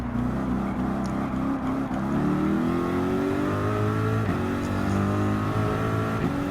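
Race cars overtaking in Gran Turismo 7, a Dodge Challenger among them, with steady loud engine drone and rising revs as the cars pass, alone without voices.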